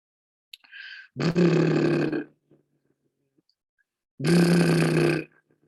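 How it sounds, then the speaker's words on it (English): Two harsh, buzzy droning bursts, each about a second long, separated by silence, with a faint short squeaky tone before the first; the raw sound of a human larynx without the vocal tract. "But this is how it would sound for any of us without that vocal tract."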